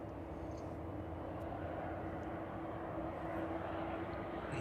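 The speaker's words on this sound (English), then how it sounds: "767s, which we saw just starting up there, being pushed back off its stand" Boeing 767 cargo jet starting up and being pushed back off its stand at East Midlands Airport in the evening, a steady, continuous engine roar and whine heard from a moderate distance with no pauses.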